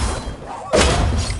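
A spell impact in Hogwarts Legacy lands as a sudden heavy thud and crashing burst about halfway through, rising out of steady game ambience and then lingering as a loud wash.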